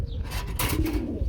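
A pair of large grizzle pigeons cooing: a low, soft, rolling coo that rises around the middle of the clip over a steady background hum, fairly close.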